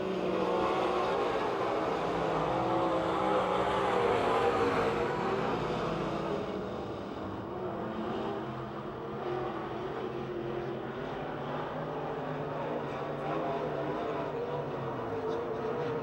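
Race cars thunder around Pennsylvania Motor Speedway near Pittsburgh on the final lap, a loud sustained engine roar that swells and eases slightly as the pack passes.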